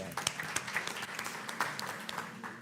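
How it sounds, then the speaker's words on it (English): Moderate audience applause at a social forum conference in Porto as a union leader is introduced, individual claps standing out sharply within a steady patter that gradually thins. "Please give him an applause"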